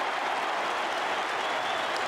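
An Essendon football crowd at the MCG roars and applauds after a goal, a dense, steady wash of cheering with no break.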